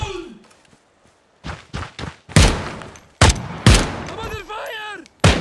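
Several separate loud gunshots ring out in the tactical shooter Ground Branch during a jungle firefight. The shots are sharp and irregularly spaced, with game character voices shouting between them.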